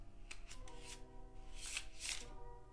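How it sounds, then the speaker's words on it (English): A riffle shuffle of playing cards, the cards falling together in a soft fluttering, papery rush with a couple of brighter snaps near the end, close and quiet. "you're releasing pressure just a little bit here, and that allows the cards to start falling"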